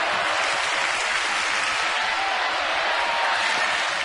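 A baseball stadium crowd at a Red Sox game in Baltimore makes a broad, steady wash of cheering and clapping, continuous and even throughout with no distinct voices.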